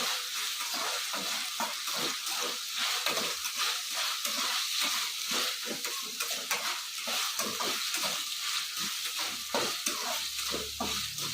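Drumstick (moringa) pods frying in a pan while being stirred, a steady loud sizzle with repeated scraping stir strokes throughout, no talking.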